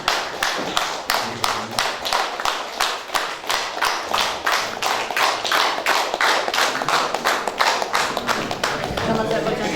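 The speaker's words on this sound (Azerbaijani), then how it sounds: "ayaq üstə bir alqışlayın" An audience stands and claps in unison at a book presentation held for President Ilham Aliyev's birthday, a steady rhythmic ovation of sharp, even beats that runs loud and sustained throughout.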